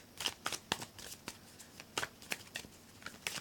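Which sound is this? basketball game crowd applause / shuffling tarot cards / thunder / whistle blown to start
shuffling tarot cards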